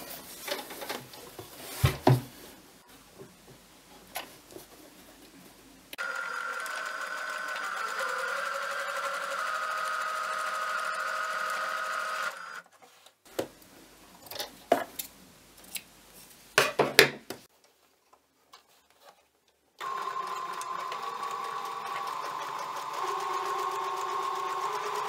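Sewing machine stitching pockets onto a fabric advent calendar, running in two sustained bursts of several seconds each with quiet handling clicks and fabric rustles in between.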